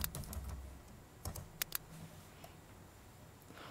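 Quiet keystrokes on a computer keyboard as a short word is entered in design software, a few soft clicks early on followed by several sharper isolated taps, close and faint with no talk.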